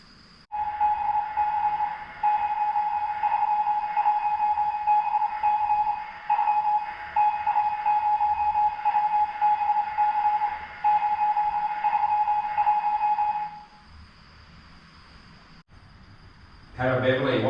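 A steady electronic beeping tone pulses in short and long bursts like Morse code, loud and clear for several seconds, then stops abruptly with a brief burst of other noise at the end.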